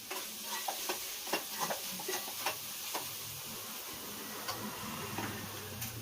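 Mutton keema being stirred with spices in a pan, a soft background sizzle broken by repeated light scraping and tapping strokes at an irregular rhythm, fairly faint and close.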